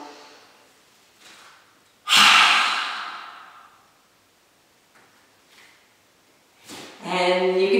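Deep yoga breaths up close: a sharp loud inhale through the nose followed by a long fading exhale, then quieter breaths and a final strong breath with a voiced tone.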